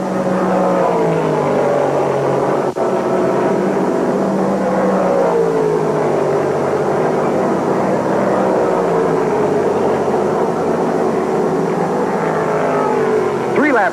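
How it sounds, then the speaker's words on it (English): Stock racing cars from 1968 roar past the grandstand at a GT race in Atlanta, with a lead Mustang among them. Loud, continuous engine noise fills the whole stretch with no pause. "Both cars are just a blur as they go by the grandstand."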